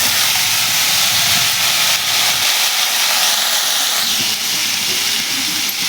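Two green chilies drop into hot oil in a kitchen pan while cooking khichuri, producing a loud, steady hissing sizzle that runs unbroken for the whole stretch with no voices.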